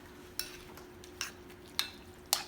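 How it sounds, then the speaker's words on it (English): A spoon stirs strawberry jam mixture with lemon juice in a pot, making four soft, evenly spaced scrapes and taps over a quiet steady hum, near and gentle, no talking. "So now I'm just gonna stir it up a little bit."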